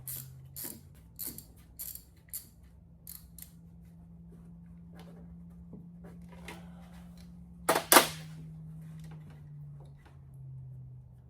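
A ratchet wrench clicks in short bursts while loosening a bracket bolt on the water pump of a 1973 Corvette, with a low hum beneath and a louder metallic clatter near the end.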